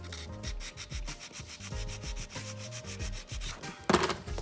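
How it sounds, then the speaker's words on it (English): A nail file rasps back and forth over a sculpted stiletto nail in quick, even, close strokes, with one sharper scrape near the end. "A little bit more filing on this side."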